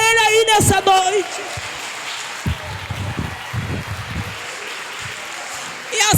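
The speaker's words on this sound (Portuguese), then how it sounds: "Dê uma salva de palmas para ele aí nessa noite." Congregation applause at an evangelical church congress evening service, a broad wash of clapping rising after a brief voice at the start and continuing steadily, fairly loud, through most of the stretch.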